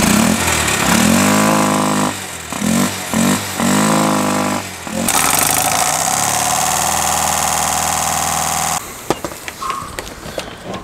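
A homemade Lamborghini replica car's engine, fitted with a silencer, runs loudly up close with a steady chugging drone and a few revving swells, then cuts off abruptly near the end.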